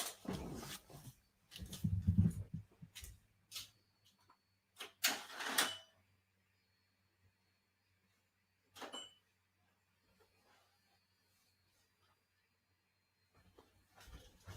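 A printer being fixed and its paper tray pulled out: a cluster of close plastic clunks and rattles early on, then a lone knock and long stretches of near silence.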